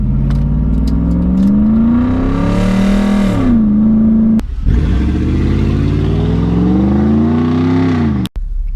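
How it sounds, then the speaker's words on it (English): A Ford F150 pickup pulls away from a dead stop with traction control off, its engine revving loudly and climbing steadily in pitch, dipping briefly at a shift, then rising again in a long, close, continuous roar. "I'm gonna take off from a dead stop with traction control off."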